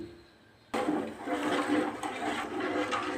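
Two bowls of water pour into a pan for semolina halwa, a sudden loud rushing hiss that starts abruptly and continues steadily for a few seconds, close and alone.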